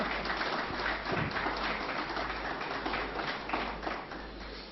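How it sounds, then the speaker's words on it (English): An audience claps at a cricket team media event for the Champions Trophy, a fairly steady burst of applause with a few sharper claps standing out, easing slightly toward the end. "yeah, thank you, we'll clap"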